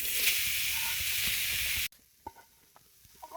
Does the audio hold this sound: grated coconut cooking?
yes